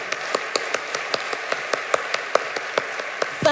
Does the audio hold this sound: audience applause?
yes